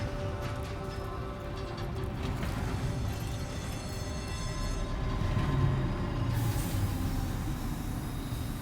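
A train in a video game rumbles past, a continuous heavy rolling roar with faint wheel squeal that swells slightly midway and then holds steady, with no one speaking.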